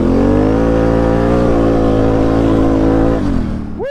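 A V-twin Can-Am Renegade or Scrambler 1000 ATV engine revs loud and close on a trail ride, holding a steady throaty drone before easing off near the end as it winds down.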